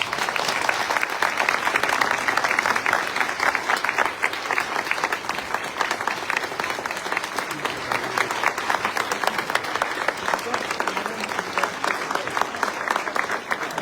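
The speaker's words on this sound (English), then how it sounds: "Let's give our veterans a round of applause." Steady, dense applause from a large crowd at a Social Security town hall, honoring veterans, sustained at an even level throughout with no pauses.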